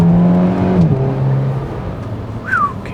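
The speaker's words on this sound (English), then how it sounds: "typical driving day through the woods with a Golf" A VW Golf GTI MK5 hatchback pulls along a woodland road with a steady humming engine note, which drops in pitch as if shifting gear, then holds. A short rising whistle-like tone comes near the end.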